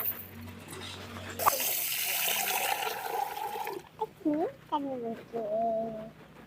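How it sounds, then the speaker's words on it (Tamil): Water is poured in a steady, splashing rush onto parboiled rice soaking in a bowl for gram flour bonda. It plays for a couple of seconds between short bursts of a woman's speech. "தண்ணி ஊத்திக்கலாம்"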